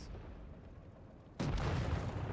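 Tank cannon fire in a tank video game, a single sudden loud blast that breaks over a low rumbling background and stays heavy to the end.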